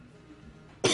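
A single sharp cough, close to the microphone, bursts out at the very end after quiet room tone, during a charity gaming livestream.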